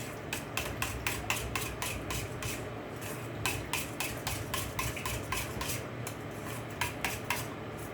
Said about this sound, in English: So these two we're going to mix first. I'm just going to mix them up.